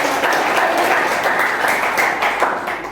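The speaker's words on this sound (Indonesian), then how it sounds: "Tepuk tangan." Steady, loud group clapping fills the room for a few seconds at a school teaching session, dense and even throughout with no talk over it.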